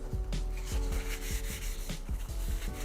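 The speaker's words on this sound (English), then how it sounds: "go over it with some sanding, and let's see if we can get those little blemishes out" Rhythmic sanding strokes rub across the body of an Ihagee Exa camera to smooth out small blemishes, about ten short scraping passes in a steady back-and-forth pattern, close and fairly quiet, with no speech.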